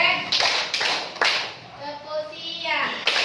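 A few sharp hand claps in a clap-pattern game called out during a teacher mentoring session, spaced irregularly among voices speaking and chanting the call.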